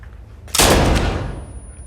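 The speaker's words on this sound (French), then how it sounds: "On doit presque être surpris par le départ du coup de feu." One loud, sharp rifle shot cracks out nearby at a shooting range after a moment of quiet, its blast decaying into a lingering echo.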